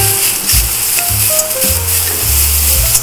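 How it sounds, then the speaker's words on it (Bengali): Grated taro dropped into hot mustard oil with nigella seeds, a loud, steady close-up sizzle over faint tonal background music. "সর্ষের তেলটা গরম হয়ে গেলে কালো জিরে ফোড়ন দিয়ে সেখানে আগে থেকে গ্রেট করে রাখা কচুটা দিয়ে দিলাম"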